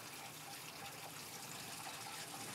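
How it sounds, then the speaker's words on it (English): Water runs steadily into the filter and ice bank of a Bevi water dispenser during installation, a faint, even rushing hiss of filling with no pauses or voices. "the water start to accumulate"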